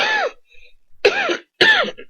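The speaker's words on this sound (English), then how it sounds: "After you're done coughing," Three harsh coughing bursts at close range, the first followed by a pause and the last two coming about half a second apart, recorded on a podcast microphone.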